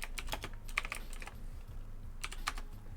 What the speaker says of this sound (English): I gotta type it correctly.